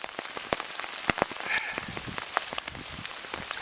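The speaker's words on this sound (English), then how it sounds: "the rain simply will not let up" Rain falls steadily in a pine grove, a dense patter with scattered louder drops striking close by, with no voices.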